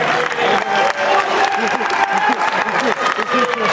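A convention panel audience claps and cheers, a moderate crowd applause mixed with voices and chatter running throughout.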